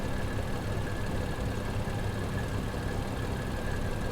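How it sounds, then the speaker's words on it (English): A simulated Boeing 737-700NG jet engine, number 2, spools up during start in X-Plane 11, a steady dense roar with a low hum and faint whine held throughout at constant loudness. "So we go for engine number 2."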